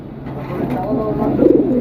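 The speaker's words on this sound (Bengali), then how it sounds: "এই যে দেখেন কি সুন্দর একটা কবুতর সিলভারের সাথে পেয়ারিং করছে" A pigeon pairing with a silver mate coos in a low, throaty, rolling call that rises near the end, close and fairly loud, with a voice talking alongside.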